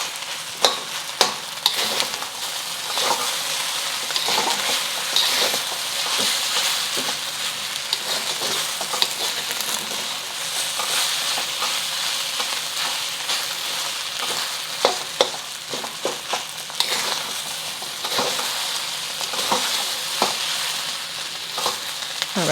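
Hong Kong–style beef fried rice with eggs being stir-fried in a hot pan: loud continuous sizzling with frequent sharp scrapes and knocks of a utensil tossing the rice, close and without talk.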